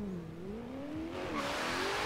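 Maserati GranTurismo S with a track build in the Forza Horizon 3 racing game, its engine revving up in a rising, smooth tone, steady and moderately loud, with no voices.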